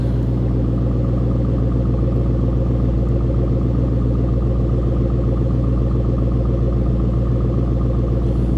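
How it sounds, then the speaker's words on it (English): A supercharged 2010 Ford Mustang Roush 427R with a Roush exhaust idles in a deep, steady rumble, low and throaty, with a constant heavy drone and no voices. "Deep throaty exhaust note with that Roush exhaust system on there."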